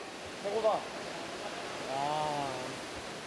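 Davis Falls in Nepal sends its water plunging about 100 metres into the gorge and cave below, a steady, full rushing roar that holds throughout, with brief voices over it.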